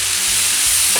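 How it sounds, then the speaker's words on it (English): Mushrooms sizzling loudly in a frying pan alongside steak medallions, a dense continuous hiss close up with faint stirring beneath. "I'm gonna go ahead and add mushrooms now."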